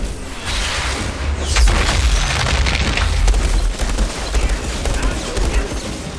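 Explosions and a barrage of gunfire in the desert shooter game Outriders, heavy booming blasts and rattling bursts layered densely over several seconds, loud and continuous, with a voice talking over the action.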